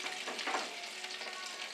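A thin chicken cutlet frying in a pan, a steady close hiss and crackling sizzle of hot oil with small bursts of spatter, continuous throughout.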